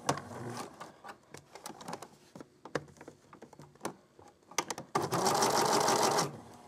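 Short bursts of a sewing machine stitching sharp turns and small boxes in a practice drill, stopping and starting with clicks and handling noises between, ending in one steadier run.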